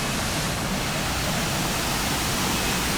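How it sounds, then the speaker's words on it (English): Steady, broadband rushing of a waterfall in Ubud, Bali, heard from a moderate distance as a continuous even roar with no voices. "there's one waterfall on the left"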